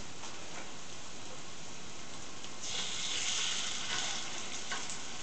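Chicken draniki fritters fry in a pan with a soft, continuous sizzle that grows a little louder and crackles more in the second half, fairly quiet overall and with no talking.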